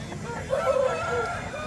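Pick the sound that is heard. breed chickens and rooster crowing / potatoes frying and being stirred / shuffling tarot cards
breed chickens and rooster crowing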